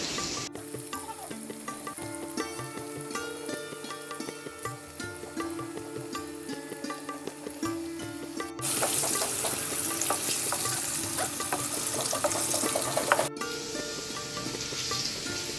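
Potatoes for Kashmiri aloo dum deep-fry in oil, giving a steady, close hiss and crackle that grows much louder and denser partway through.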